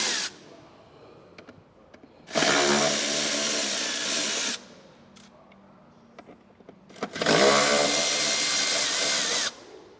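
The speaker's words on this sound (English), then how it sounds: "Start with removing all the T40 screws." A power tool drives out T40 screws from a motorcycle saddlebag on a Harley-Davidson Low Rider ST or Sport Glide, two loud whirring bursts of about two seconds each, separated by quiet handling clicks.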